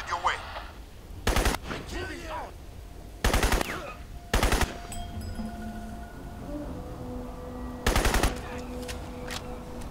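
Enemy gunfire in the first-person shooter Crysis: several loud automatic bursts rattle out at irregular intervals, each lasting under half a second, with quieter game sounds and some voice-like sound between them.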